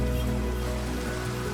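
Steady rain falls in a Minecraft game world, a constant even hiss with low droning tones underneath and no voices.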